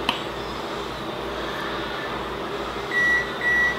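Two short electronic beeps from an oven signalling it has finished preheating, sounding near the end over a steady kitchen hum with no talking.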